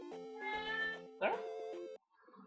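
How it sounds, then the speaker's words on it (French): Domestic cat meowing repeatedly and insistently, several drawn-out tonal meows close to the microphone, with a brief rougher squeal in the middle, ending abruptly. "C'est juste qu'elle a envie de miauler pour miauler en fait."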